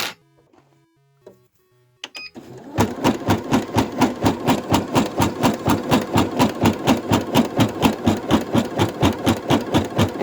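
An embroidery machine stitches the edge of a patch, its needle running in a fast, steady, loud rhythmic chatter that starts after a few seconds of quiet, with brief faint handling sounds before it.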